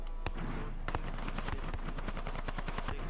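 Rapid automatic gunfire in a military shooter video game, bursts of sharp cracks in quick succession, loud and close over a constant low hum, with no voices over it.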